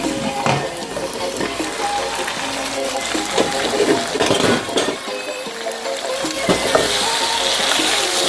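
Garlic and meat fry in a pan for a Jamaican pumpkin soup, giving a loud, continuous sizzle with occasional clinks of a utensil. Nobody speaks.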